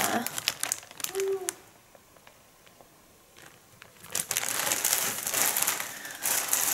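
A plastic bag crinkles as a Kari Traa purple beanie is unpacked, in loud crackling bursts near the start and again more densely toward the end, with a quieter lull between.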